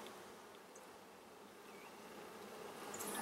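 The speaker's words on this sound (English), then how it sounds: "There's just bees wall to wall." A dense, steady buzz of many honeybees in a hive fills the air close by, a continuous droning hum with no voices.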